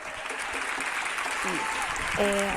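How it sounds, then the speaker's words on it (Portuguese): An audience in isolation applauds at the close of a music performance in Granada, Spain, with soft, distant clapping that carries on steadily while a few brief tonal sounds and faint voices rise over it. "No final da apresentação, ele foi aplaudido pelo público que está em isolamento."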